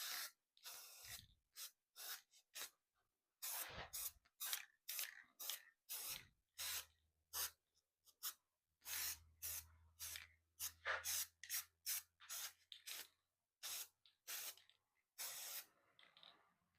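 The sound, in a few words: spraying a coat of finish on forged candle stand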